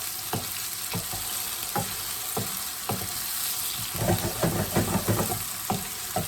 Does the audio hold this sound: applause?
no